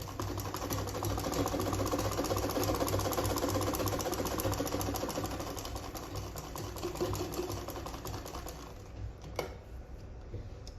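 A sewing machine runs steadily, stitching the seam of a stylish sleeveless gown in a continuous mechanical whir before stopping near the end.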